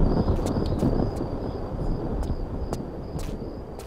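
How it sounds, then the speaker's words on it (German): Revolver gunfire killing a scorpion in the video game Tomb Raider 4: several sharp, separate shots spaced irregularly over a rumbling, windy game ambience, loud and up front. "Vier Schuss mit dem Revolver töten so einen Skorpion."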